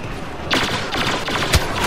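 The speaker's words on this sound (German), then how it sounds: "Da kommen sie schon, die Schüsse." Bursts of rapid Star Wars Battlefront gunfire crackle in short volleys, sharp and fairly close, with a couple of heavier single shots toward the end.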